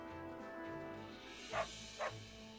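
A dog in Fire Emblem Warriors: Three Hopes gives two quick barks about half a second apart over quiet, steady game music.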